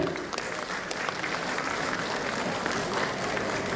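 Dense, steady crowd applause at a medical college convocation ceremony, a continuous wash of clapping from a large audience heard at some distance for a few seconds.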